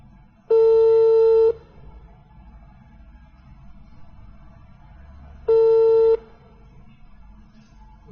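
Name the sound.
telephone call dialing and ringing tone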